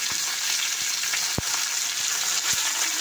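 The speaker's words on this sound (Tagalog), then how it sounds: "prito tayo ng tilapia" Oil sizzles and crackles steadily in a pan as tilapia fries, a dense hiss broken by a few sharp pops and clicks.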